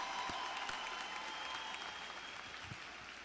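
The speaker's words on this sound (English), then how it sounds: "How about another round of applause for that installation?" Applause from a commencement audience at Southern University at New Orleans, a steady, somewhat distant wash of clapping that holds evenly for a few seconds.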